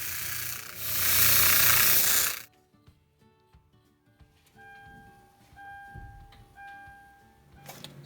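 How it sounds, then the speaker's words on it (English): A wire wheel grinding rust off a brake caliper bolt from a 2010 Hyundai Sonata, a loud, harsh whirring scrape for about two seconds, followed by quieter clinks and handling of tools. "I'm just going to wire wheel the rust away and then anti-seize it all"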